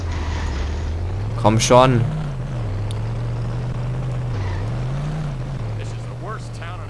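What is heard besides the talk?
car accelerating in The Simpsons: Hit & Run video game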